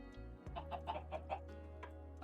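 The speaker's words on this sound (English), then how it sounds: "I can hear clucking." Minecraft chicken clucks in a short rhythmic series of soft, close clucks over a steady low game background hum, with no voices.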